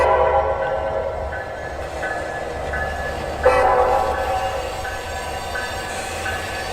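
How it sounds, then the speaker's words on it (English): Westbound freight train NS 135 nears Asheville, coming in from Charlotte, North Carolina, in HO scale: a steady rumble of rolling cars with horn-like tones and a brief sharper squeal midway, heard alone. "Approaching Asheville is westbound freight NS 135 coming in from Charlotte, North Carolina."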